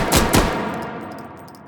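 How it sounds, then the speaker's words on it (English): Two quick, loud handgun shots fired one-handed in the VR shooting game H3VR, close together at the start and then a long ringing decay. "I'm going to fire this as fast as I can"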